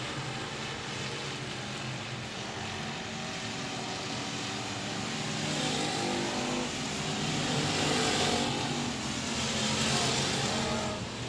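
Race cars thunder around the Speedway of Texarkana in a dense, continuous engine roar that swells louder midway as the pack passes, then holds steady, with no voices heard.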